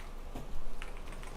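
Quick, light keystrokes on a new computer keyboard, a short burst of close clicks and taps with one slightly heavier thump midway, no voices.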